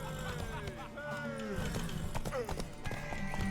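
Horse hooves clip-clop in a Witcher 3 video game scene, steady rhythmic footfalls under frequent talk and game music.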